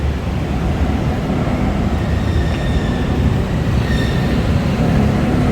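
Loud, continuous rumble and rattle of a Bangkok BTS Skytrain passing overhead on an elevated track near Siam Square, with faint high wheel squeal, no voices.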